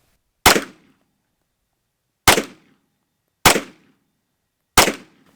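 Four loud, sharp pistol shots fired one-handed from a prone position, each a close crack with a brief ringing decay, spaced about a second or more apart in open air.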